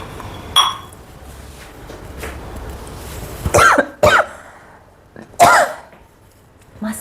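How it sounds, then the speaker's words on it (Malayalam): Someone coughing from the sharp fumes of ground masala and garlic for rasam, several harsh coughs in quick bursts with faint kitchen clinks between them. "അപ്പോൾ ഇങ്ങനെ ചുമക്കും"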